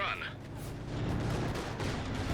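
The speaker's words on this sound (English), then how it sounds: "here comes the assault artillery" Assault artillery barrage in Company of Heroes 2, a World War II strategy game, with shells landing in a loud, continuous rumble of overlapping booms and blasts throughout.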